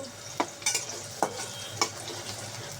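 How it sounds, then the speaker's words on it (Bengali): Onions sautéing in a pan for a Bengali small-fish and winter vegetable dish: a soft continuous sizzle punctuated by several sharp scrapes of a spatula stirring, at a steady irregular rhythm, no talk. "পেঁয়াজটা ভালো করে কষিয়ে নেব"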